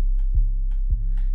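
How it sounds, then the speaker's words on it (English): An original 808 bass drum sample plays, with deep booming hits repeating in a steady pattern, loud and alone, set against faint higher percussion taps. "The original 808 sounds like this."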